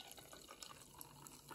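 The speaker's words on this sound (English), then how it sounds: "I'm gonna go ahead and pour some in this cup here" Sparkling Ice black cherry drink pours into a freshly rinsed cup, a soft continuous splash and fizzing trickle, quiet and close, ending with a small click.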